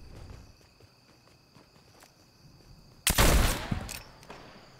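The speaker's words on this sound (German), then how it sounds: "Ich habe da Schüsse. Schüsse sind immer interessant." A loud burst of gunfire erupts suddenly in the video game Fortnite, followed by a shorter shot, after a quiet stretch of faint ambient footsteps and insect-like chirping.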